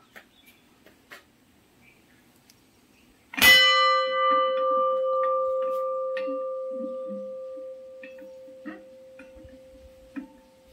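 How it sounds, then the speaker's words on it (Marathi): A large temple bell at Rameshwar Mahadev temple is struck once, a loud close clang that rings on in a long clear tone slowly fading over several seconds, with faint background murmurs. "आता घंटा वाजव तुम्ही, आवाज बघा किती आता"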